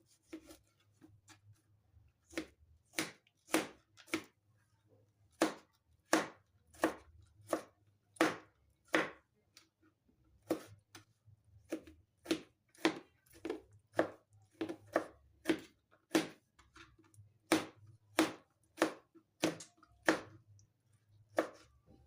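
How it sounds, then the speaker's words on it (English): A knife chops a tomato on a board with crisp, evenly spaced thuds that come in quick runs and short pauses, close and clear with no talking. "So then I'm going to chop my tomato."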